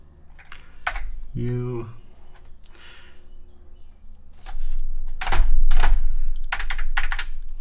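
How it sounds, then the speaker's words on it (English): Keys are pressed on an Atari 1040 STF computer keyboard during testing, giving sharp individual clicks and clusters of clacks at an irregular pace, close-up, while a voice briefly speaks. "So this keyboard is working perfectly fine."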